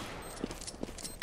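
Gunfire in Counter-Strike on the de_train map during a DreamHack Winter 2013 esports match, a few faint, quick shots spread across a second amid steady game noise, with no talk over them.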